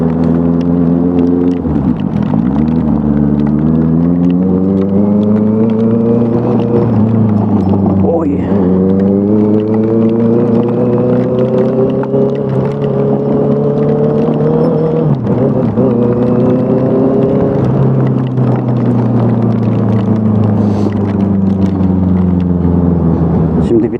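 A Honda CB 650F motorcycle engine with a newly fitted aftermarket exhaust drones steadily and close, its pitch rising and falling as it runs on without a break.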